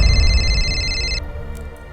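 A telephone ringing after a number is dialed, a steady electronic ring tone that sounds for just over a second and then stops, leaving low background noise.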